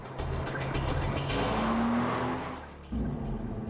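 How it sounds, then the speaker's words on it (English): A sports car drives fast past, its engine revving loudly with a rising whine and a brief tire squeal before the pitch shifts as it continues, no talk over it. "And a sports car."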